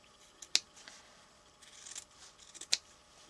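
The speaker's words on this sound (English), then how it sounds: "you might want to just snip into it, being really careful not to cut the stitches" Scissors make a few small, crisp snips into sewn fabric near the stitches of a stuffed Scotty dog toy, two sharper clicks among fainter handling sounds in a quiet room.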